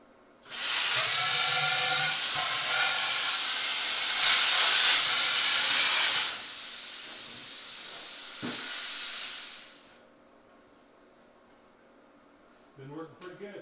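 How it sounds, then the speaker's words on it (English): A plasma cutter slices steel tube sections held in a shop-built jig for dual-wheel garden tractor parts, giving a loud steady hissing roar for about nine seconds before cutting off, followed by a few faint clanks. "I built this jig to use the plasma cutter to cut them to length"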